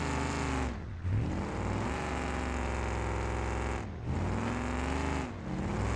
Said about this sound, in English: The exhaust off of it. You hear it louder now.